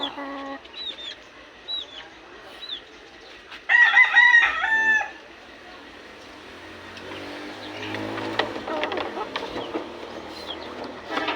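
Backyard chickens with chicks cluck and peep close by, and a rooster lets out one loud crow partway through, followed by continued clucking and scratching.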